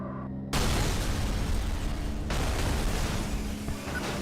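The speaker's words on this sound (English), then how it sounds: "The explosion wasn't necessary." A car crash explosion in the Burnout Legends racing game erupts suddenly after a brief musical lead-in, a loud broadband boom followed by a sustained roaring rumble of debris and fire that fades slowly.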